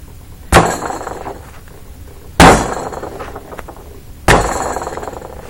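A clay slab is thrown at an angle onto canvas, producing three loud, sharp slaps about two seconds apart, each followed by a brief rustling decay.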